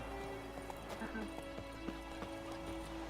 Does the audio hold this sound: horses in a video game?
yes